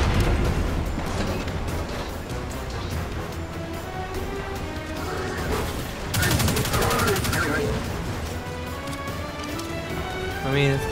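Enemy gunfire in Destiny 2, rapid repeated shots rattling through the clip with a sharp burst of fire around the middle, while a person talks over it.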